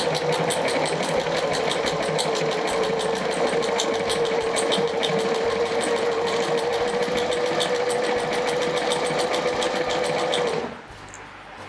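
Sewing machine stitching steadily over an earlier seam, a fast even mechanical whirr with a constant hum, running alone for about ten seconds before stopping abruptly.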